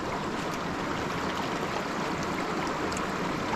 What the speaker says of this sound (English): Little side stream.